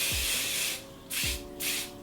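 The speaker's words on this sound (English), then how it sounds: "And then I also tend to take a little bit of hairspray and then just mist a bit of hairspray over." Hairspray misted over curled hair, three short aerosol hisses in quick succession, close and clear with no talk.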